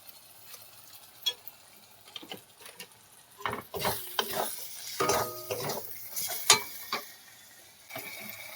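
Spice paste for a fish curry of cut rohu pieces is stirred in a pan, with scattered clinks and scrapes of a utensil against the metal, intermittent and close, busier in the middle.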